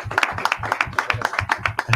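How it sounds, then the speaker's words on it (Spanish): Applause at a press conference for a newly appointed commerce director: a small group clapping in a steady, fairly even rhythm, close and moderately loud, with no talk over it. "le pido un fuerte aplauso para esta nueva incorporación"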